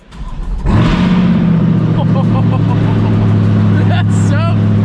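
A C8 Corvette engine cranks and fires up loudly, then settles into a deep rumbling idle with a couple of sharp revs, while a man exclaims over it.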